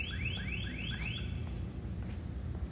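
A walk-through metal detector alarm used for concealed weapons screening sounds a repeated rising electronic chirp, about five quick sweeps in a row, loud and close over a low background hum.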